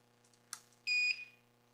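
Audio cable tester emitting a steady electronic beep of about a quarter second while running its XLR test, preceded by a faint click, heard close and alone over low hum.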